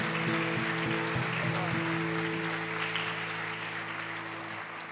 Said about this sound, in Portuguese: Então aplauda o nome dEle, em nome de Jesus.